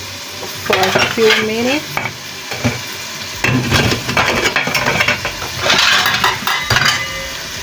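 A spoon stirs plantains (matoke), meat and potatoes in a pot, with close, loud scraping and clattering strokes in bursts and a sizzling undertone; a voice speaks briefly early on.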